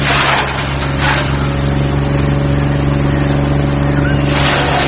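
An agricultural shredder cum pulveriser with 6 cutting knives and 30 grinding blades runs steadily and loudly, its motor drone constant throughout, with no pauses or voices.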